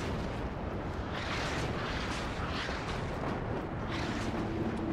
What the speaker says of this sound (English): Artillery's already in the air.